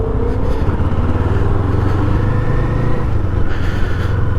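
A Kawasaki Eliminator motorcycle rides along a road, its engine droning loud and steady close by, with a mild rise in pitch near the end.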